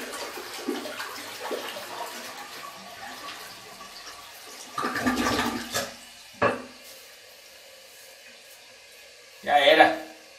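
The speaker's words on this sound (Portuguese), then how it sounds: "Agora eu vou dar a descarga para vocês verem." A household toilet being flushed, a low rushing gush of water that swells mid-clip, fades, then surges again near the end, with faint splashing and background noise in between.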